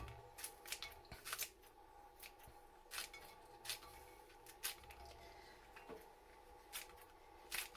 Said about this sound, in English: You just chop them into the pan.